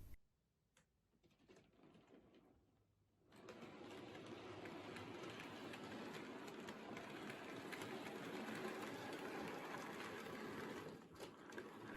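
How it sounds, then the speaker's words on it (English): A Rapido model Great Northern covered wagon rolls over streamline track points on a model railway layout. After a quiet start, a steady rolling rumble with faint rhythmic ticking clicks runs continuously and softly, with no talk. "the Great Northern Covered Wagon has no issues passing over my streamline points"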